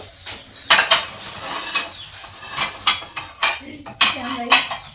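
Dishes and plates clink and clatter in a series of sharp, close knocks and scrapes across the clip, spaced irregularly as they are moved and stacked, with faint background noise and no clear talk.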